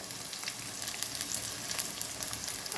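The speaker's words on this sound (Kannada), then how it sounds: "ಜೀರಿಗೆ ಚಿಟಿಪಿಟಿ ಅಂದಮೇಲೆ ಈರುಳ್ಳಿ ಈರುಳ್ಳಿ ಸ್ವಲ್ಪ ಧಾರಾಳವಾಗಿ ಹಾಕಿ" Onions and cumin seeds frying in oil for mandakki oggarane (puffed-rice churumuri), a steady close crackling sizzle with no pauses.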